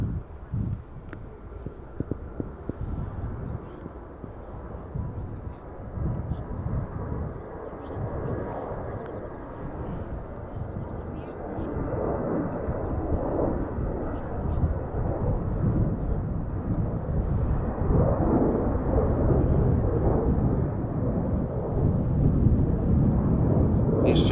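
An EasyJet Airbus A320, eleven years old, departing Amsterdam Schiphol for Venice makes a deep, rumbling low roar that builds gradually and stays strong, muffled and thunder-like, with wind noise on the microphone.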